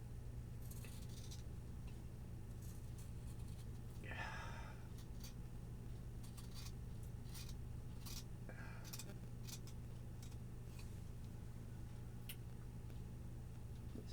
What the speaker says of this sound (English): I'm going to use my bigger scissors.